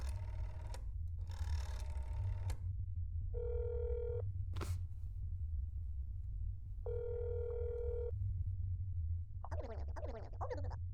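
A telephone rings twice in long, steady tones after the neighbor's number is dialed in the video game That's Not My Neighbor, over a constant low hum, with brief clicks and chirps between the rings.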